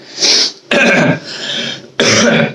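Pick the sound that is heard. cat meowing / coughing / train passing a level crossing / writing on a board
coughing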